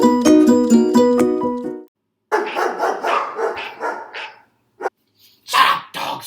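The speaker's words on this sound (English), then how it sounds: "Shut up, dogs!" Dogs barking as a sound effect: a rapid run of loud, close barks, then a few more scattered barks and yips separated by short silences.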